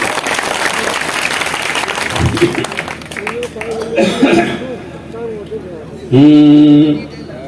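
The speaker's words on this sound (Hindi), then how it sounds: "एक बार ताली बजा करके मुझे अनुमति दे दीजिए।" An audience at a Hindi poetry gathering (kavi sammelan) claps in a broad, continuous wash, with coughs and murmurs in between and a brief voice or tone near the end.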